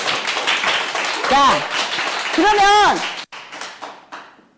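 A business presentation audience breaks into scattered clapping, while a presenter's voice speaks loudly close by and rises over the claps.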